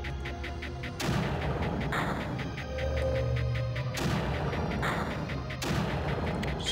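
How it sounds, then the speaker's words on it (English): Mortars fire in the strategy game Creeper World, a steady barrage of heavy booms and crackling blasts thudding at regular intervals over a dense, continuous rumble, loud and without voices. "the first mortar is up and running"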